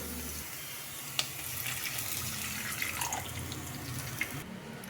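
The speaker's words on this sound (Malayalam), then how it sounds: "ഇനി ഇതിലേക്ക് നമുക്ക് തേങ്ങയുടെ ഒന്ന് രണ്ടാം പാൽ ഒഴിച്ചു കൊടുക്കാം" Thin second coconut milk poured into a pan for a drumstick-leaf (moringa) stew: a soft, continuous liquid pour with a few small splashes and drips, fairly quiet and close, no voices.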